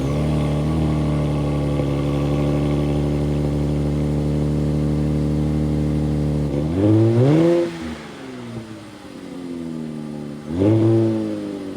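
A Nissan Nismo Z engine idles high and steady after a cold start, its harmonic drone held for several seconds before two sharp revs rise and fall, with no talking.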